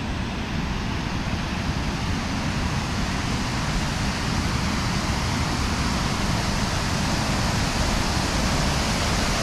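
Constant broadband rush of a waterfall heard outdoors on a walk among trees, steady and fairly loud with no talk.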